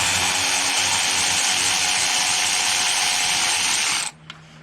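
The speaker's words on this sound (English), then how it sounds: "I'm just going to take these bolts out." A power tool, likely an impact driver with a 13 mm deep socket, runs in one steady loud whir for about four seconds, backing bolts out during A/C system work on a 2017 RAM 1500, then cuts off.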